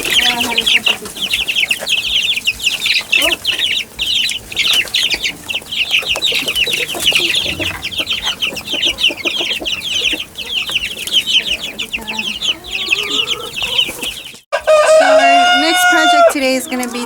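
Hens clucking and chattering almost continuously inside a hen house, close and busy, with a rooster crowing loudly near the end.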